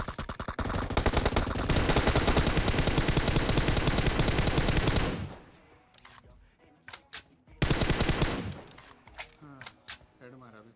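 Rapid automatic gunfire from PUBG Mobile roars in a dense sustained burst for about five seconds, then gives way to scattered single shots and a second short loud volley, with sharp cracks trailing off.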